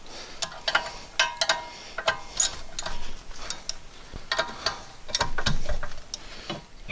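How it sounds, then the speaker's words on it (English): A hand ratchet tightens rear brake bolts on a 2016-or-later Honda Civic, giving close, rapid bursts of clicking in short repeated strokes with brief pauses between them. "I'm just going to tighten these up and then torque them off."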